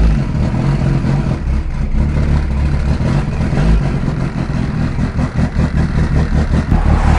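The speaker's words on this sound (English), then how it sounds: "My Evo is loud as hell, so you might have a hard time hearing me." Loud, steady engine roar from a 500 whp Mitsubishi Evo 8 with a coil-on-plug kit, heard from inside while driving, with a throbbing low rumble that rises and swells slightly and holds throughout with no talk.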